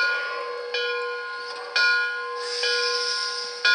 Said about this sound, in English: here is the whistle, the bell again